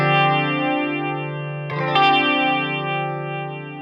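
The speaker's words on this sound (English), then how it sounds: "So let's put the Vortex on here for that gentle flange." Electric guitar through a TC Electronic Vortex flanger pedal set for a gentle flange: sustained chords ring with a slow sweeping whoosh, then a fresh strum near the middle restarts the swirl, alone and fairly loud.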